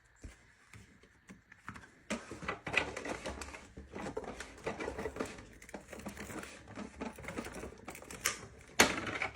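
A manual die cutting machine cranks through paper for pumpkin stem strips, producing a steady, close, rattling mechanical clatter with uneven rhythmic ticks and crunches for several seconds.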